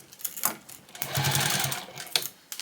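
A sewing machine stitches a bag strap along a seam, a steady close-up whir with a short stop and restart near the end.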